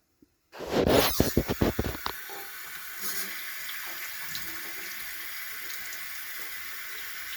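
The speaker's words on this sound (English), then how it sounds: "anytime I get ready to use any of my beans, no matter what kind they are, I always wash them until they're thoroughly clean" Kitchen tap water runs steadily over home-canned black beans being rinsed, starting with a few splashy bursts and then settling into a constant close rush with no talk.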